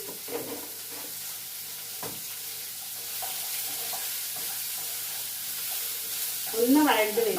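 Salted jackfruit seeds sautéing in a pan, giving a soft, steady sizzle with occasional stirring scrapes, growing louder and busier near the end.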